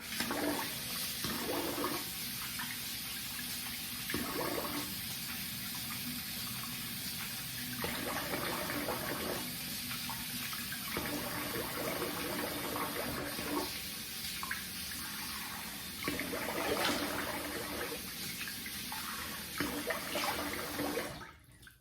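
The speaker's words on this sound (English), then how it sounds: "So I do a quick warm water and then cold water rinse." A bathroom tap runs steadily for a face rinse after a wet shave, a close continuous splash interrupted by repeated rhythmic bursts as hands scoop and splash water, ending abruptly.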